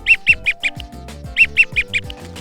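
Ducks flying in during a duck hunt in Mazatlan give two rapid bursts of loud, close quacking, each about four calls long, over a low background hum.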